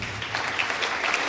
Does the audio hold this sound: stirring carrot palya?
no